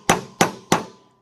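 Three sharp metallic strikes on the end of a flathead screwdriver, knocking pieces out of a scrapped microwave, evenly spaced about a third of a second apart with short ringing decays, close and fairly loud.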